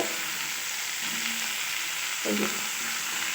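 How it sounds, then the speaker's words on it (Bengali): Steady crackling sizzle of bottle gourd frying in a pan, with a brief scrape of stirring partway through. "একটু ভাজা ভাজা করে নিলাম"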